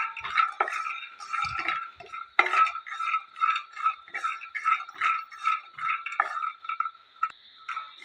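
Peanuts roasting in a pan over a medium flame, stirred with a utensil: repeated scraping and rattling strokes in a steady rhythm, close and moderately loud, with no talking.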